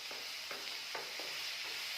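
Vegetables, including potato, fry in plenty of oil for a sagu curry, a steady loud sizzle with regular scraping stir strokes about every half second.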